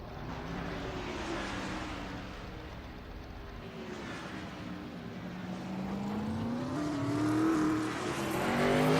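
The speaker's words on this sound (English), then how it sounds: "The cars sound pretty cool as they go by," Race cars roaring past in Assetto Corsa on a Daytona International Speedway oval, engine notes rising and sweeping by in a steady, loud stream of passing traffic with no talk.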